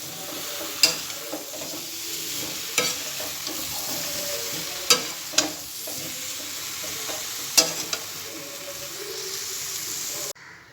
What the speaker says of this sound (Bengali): আলুগুলো দিয়ে এবার মশলাটার সাথে সুন্দর করে কষানো।